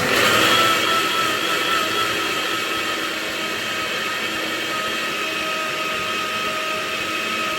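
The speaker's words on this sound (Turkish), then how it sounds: "Şimdi ben bunu bir blenderdan bızıt yapacağım." A blender runs continuously, frothing a drink of water mixed with oat and almond milk, a loud steady high-pitched whir close by that holds for several seconds before cutting off, with no talking.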